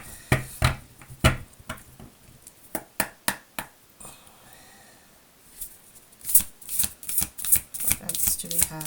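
Tarot cards being shuffled at close range: bursts of crisp riffling and sharp slaps come in quick clusters, pause for a quiet stretch, then resume in a busier flurry.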